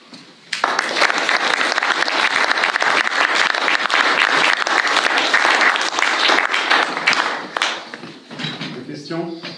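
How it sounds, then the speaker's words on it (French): A lecture audience claps loudly and steadily for several seconds, a dense wash of applause that fades near the end as a voice begins to speak. "Les applaudissements vous ont réveillé du coup"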